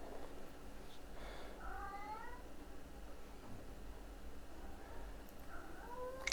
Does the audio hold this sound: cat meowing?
yes